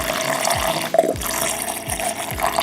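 Water poured over coffee grounds for cold brew splashes and gurgles in a container, with a few bubbling glugs and a sharp splash midway.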